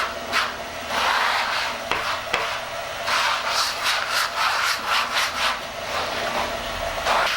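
A squeegee drags coating across screen-printing boards in repeated rubbing, scraping strokes, close and fairly loud, with short pauses between passes.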